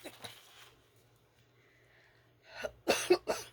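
A woman coughs in a short burst of two or three harsh coughs near the microphone, following quieter breathy throat noises, with a faint steady hum underneath.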